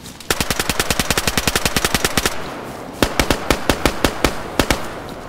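Rapid automatic gunfire in the survival video game DayZ, a long fast burst of loud sharp shots followed by a slower string of about ten evenly spaced single shots, close and dominant.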